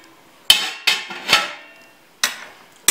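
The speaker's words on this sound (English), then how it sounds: "We will just cover this with a lid" A metal lid is set over a cake tin inside a baking vessel on the stove, giving a series of sharp clanking knocks, several close together, then a pause and two more.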